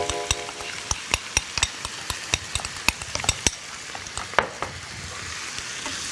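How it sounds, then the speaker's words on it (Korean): Octopus and green onion stir-fried in a hot pan give a steady sizzle, broken by a quick run of sharp spatula scrapes and clicks against the pan. Later the scraping grows sparser and no one talks. "대파, 자, 낙지랑 넣어주시고, 그다음에 한번 볶아주세요"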